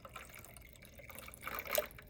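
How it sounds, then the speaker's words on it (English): Liquid poured into a film developing tank, a soft, faint splash and trickle that swells briefly near the end. "pour it into my tank."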